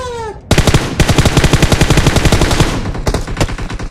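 Rapid automatic gunfire in a PUBG Mobile match, loud, dense bursts running steadily for several seconds after a brief tonal sound at the start.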